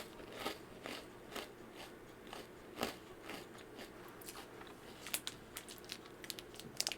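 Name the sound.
chewing a matcha snack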